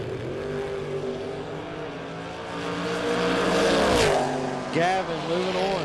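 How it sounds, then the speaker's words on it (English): A Camaro drag racing car accelerates down the strip, its engine rising in pitch and building in loudness to a peak, then revving again briefly, with a voice talking over it. "Super sharp looking Camaro."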